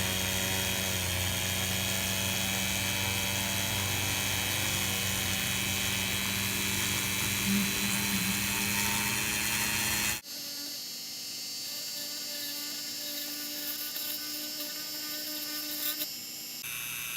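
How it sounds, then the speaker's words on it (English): A steady, high-pitched whine of a drill boring into a PetSafe plastic battery casing, running continuously for about ten seconds, then cutting off to a quieter hum. "I don't want to drill any further because I'll be drilling into the battery itself."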